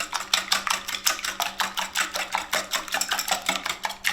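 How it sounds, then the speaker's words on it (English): Quiche ingredients get whisked together in a bowl, a rapid, even clatter of the whisk against the bowl repeating about three times a second, close and fairly loud, with no talking. "So I'm going to whisk those together."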